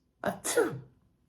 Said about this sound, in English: The real story is about a sneeze